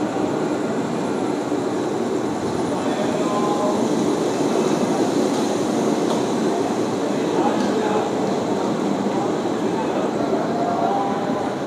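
The Gour Express with new LHB coaches pulls out of Bandel, filling the space with a loud, constant rumble and rattle of the rolling coaches heard from inside.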